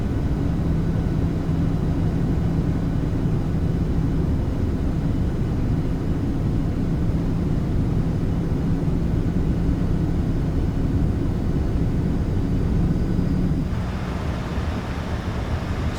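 Malaysia Airlines Boeing 737-800 in flight in Microsoft Flight Simulator 2020, a steady low cabin drone and engine hum held evenly throughout, with a slight drop in level near the end.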